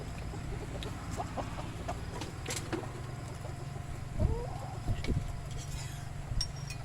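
Chickens cluck near a rural Thai home, with short, scattered calls rising over steady low background rumble and a couple of louder bursts toward the end.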